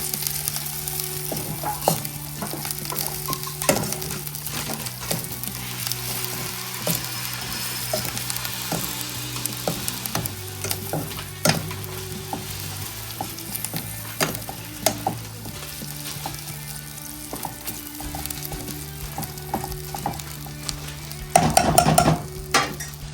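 Prawns frying in a pan for a prawn curry, a constant loud sizzle with scattered clinks and scrapes of stirring and cookware throughout, and a brief burst of louder rattling near the end; no one speaks.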